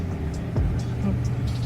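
An automatic car moving off slowly at low throttle, a steady low engine hum from inside the cabin with a faint murmur of voices.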